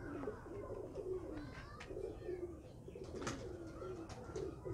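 Pigeon of a prized lineage cooing repeatedly at low volume, rhythmic throaty coos spaced through several seconds, with a few faint higher chirps and light rustling.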